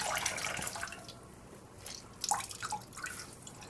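Water drips and trickles from a wet crochet neckerchief as it is squeezed by hand, with scattered close drips and splashes over a steady watery hiss.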